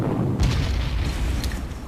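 Artillery fire in the wargame Panzer Corps, a deep booming blast followed by a rumbling roll and a smaller pop, fairly loud over a constant low game hum.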